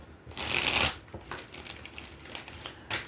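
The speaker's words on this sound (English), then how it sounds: "Let's shuffle." Tarot cards being shuffled: a crisp riffle burst up front followed by softer, intermittent card slides and taps, close and quiet with no talk.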